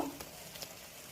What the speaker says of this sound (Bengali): এখানে আমি খাসির চর্বিটা দিয়ে দেব